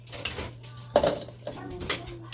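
Dishes, pots and cutlery clink now and then during washing in a home kitchen. The sparse knocks and rattles are fairly quiet over a low steady hum.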